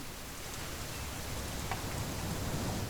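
Steady, dense rainfall from the game What Remains of Edith Finch, an even hiss of drops on surfaces filling the whole stretch with no speech.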